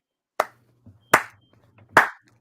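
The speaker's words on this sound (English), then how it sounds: "Slow claps get started different." Three slow, evenly spaced hand claps, sharp and close, each ringing briefly in a quiet room with no voices.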